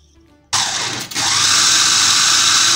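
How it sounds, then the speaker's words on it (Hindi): A small kitchen grinder processing fish switches on abruptly into a loud, close, high whirring roar, briefly dips as the load shifts, then runs steadily to the end with no talk. "देखिए पीस गया है और इसी तरीके से हम सारे पीस लेंगे।"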